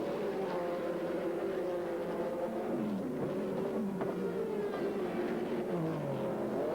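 A Cadillac race car in the American Le Mans Series at Sears Point sweeps past with a wavering engine drone that rises and falls in pitch. The sound is moderately distant and mixed with other engine noise.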